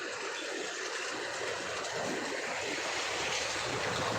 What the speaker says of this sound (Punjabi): ਪਾਣੀ ਬਹੁਤ ਜ਼ਿਆਦਾ ਸਪੀਡ ਨਾਲ ਚੱਲ ਰਿਹਾ